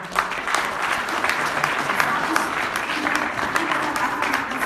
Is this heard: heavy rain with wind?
no